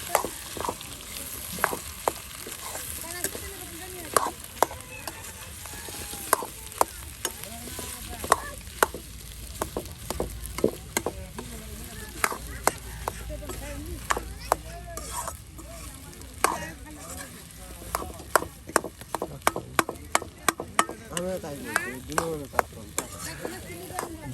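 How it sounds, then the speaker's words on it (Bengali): Potatoes fry in oil with onions, making a continuous close sizzle throughout. Frequent scraping and clacking stirring strokes come at an uneven rhythm over it, with no talk. "আলুটা যে ভাজি করা হচ্ছে এটা কিন্তু অনেক সুন্দর করে একদম তেলে পেঁয়াজে কিন্তু একদম আলু ভাজি"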